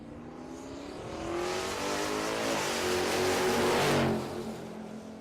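Drag race cars, a 4th gen Camaro and a Ford, launching side by side at Tulsa Raceway Park, engines swelling into a loud sustained roar that builds and then fades as they pull away, with no talk over it.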